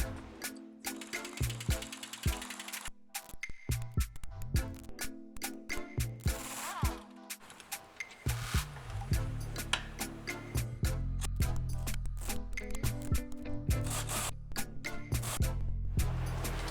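Ratchet wrench working loose the steering rack mounting bolts on a 2003 Acura MDX, with bursts of clicking and metallic clatter close by, growing into a steadier, denser mechanical rattle in the second half.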